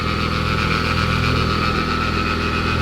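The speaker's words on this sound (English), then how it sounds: "I feel like it's just typical bottom end oil pump noise" Mitsubishi Evo 10 engine idling close by, a steady hum with a busy mechanical whir and faint ticking from the bottom-end oil pump area, running evenly without any voices.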